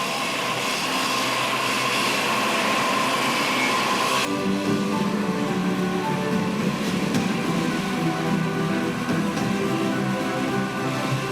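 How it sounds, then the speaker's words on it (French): An angle grinder cutting sheet steel for a vehicle chassis in a factory workshop gives a loud, continuous harsh roar that stays steady throughout, with the tone shifting partway as the disc bites into the metal. "notre soudeur qui était en train de couper donc la tôle avec la meule"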